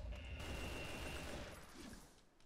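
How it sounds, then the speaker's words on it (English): Dense, continuous gunfire while shooting imps in Brutal Doom, a rolling volley of overlapping shots at high volume that eases slightly near the end, with no voice over it. "Pop a few rounds down at the imp."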